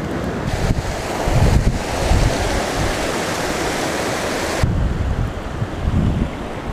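A creek in New Mexico flows outdoors in a steady, loud rushing wash, with some wind buffeting the microphone and no talking.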